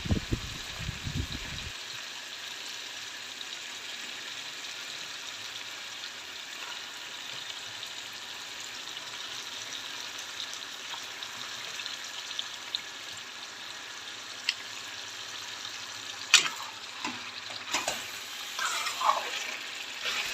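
Chicken pieces frying in an oily spice paste, a steady broad sizzle running throughout with occasional brief scrapes and stirring clinks near the end; no one speaks.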